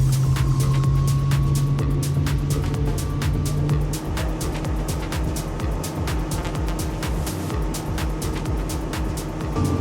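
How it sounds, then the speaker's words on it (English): A Mercury Verado V8 outboard pushes a Highfield boat at full throttle, giving a loud, steady, close engine roar with rushing water and wind noise that holds throughout without pause. "Just check out how responsive it is when I nail the throttle."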